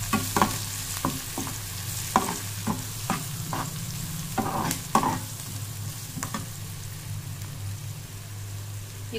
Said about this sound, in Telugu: ఇవి కొద్దిగా వేగాలి.